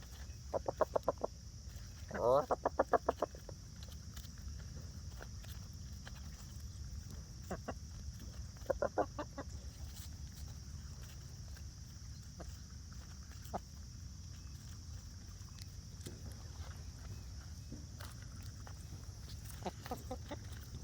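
Backyard chickens clucking softly in short clustered bursts over a faint steady hum, fairly distant and quiet, with sparse single clucks between the louder groups.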